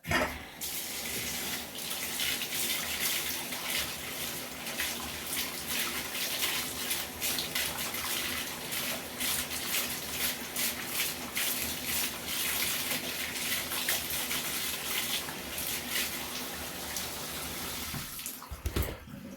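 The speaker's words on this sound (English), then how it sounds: "So we'll just give this a quick rinse." Tap water gushes steadily as parts of a Bissell PowerForce bagless vacuum cleaner are rinsed under it, a close, continuous splashing rush that ends abruptly with a couple of bumps.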